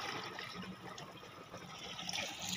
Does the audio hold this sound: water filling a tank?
yes